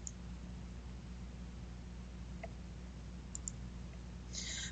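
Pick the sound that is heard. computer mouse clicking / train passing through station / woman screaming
computer mouse clicking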